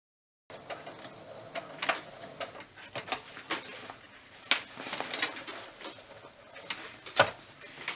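Irregular, soft mechanical pattering and ticking of a sewing machine stitching rabbit hide slowly in short bursts, fairly close and quiet, with no talking.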